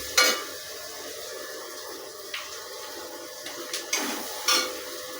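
Chopped onions frying in oil in a karahi give a soft, steady sizzle, with a few short scrapes and clinks of a spatula against the pan and no talking.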